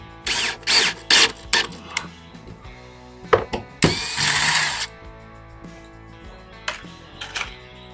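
Power drill driving screws into a wooden porch bench, heads sunk below the surface: several short whirring bursts with clicks and rattles between them, close by.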